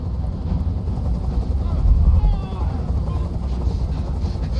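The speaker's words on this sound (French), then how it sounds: "Je peux plus supporter ce bruit. Fais dégager cet hélicoptère, maintenant." A helicopter hovers nearby in Detroit: Become Human, a steady, loud rotor drone with a low throbbing roar that holds throughout and swells briefly midway.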